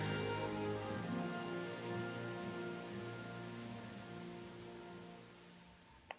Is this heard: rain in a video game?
yes